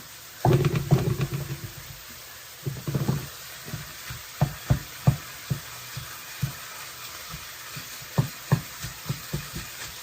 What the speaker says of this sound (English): this is me trying very inefficiently using the spatula, which I'm no longer going to use, to break up the meat